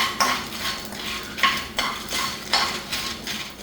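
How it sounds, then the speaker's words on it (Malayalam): Whole peppercorns, dried red chilies, a piece of cinnamon and bay leaves are stirred and dry-roasted in a pan, giving repeated close scraping strokes of a utensil against metal in an even rhythm, without speech. "2 ബേ ലീഫ്, ഇത്രയും ചേർത്ത് ഒന്ന് നന്നായി ചൂടാക്കിയെടുക്കാം."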